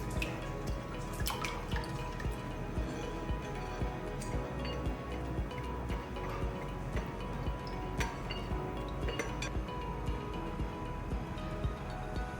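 Whisked eggs cooking over medium heat in a pan for breakfast burritos give a steady, soft sizzle with a low hum beneath it and scattered faint ticks and pops.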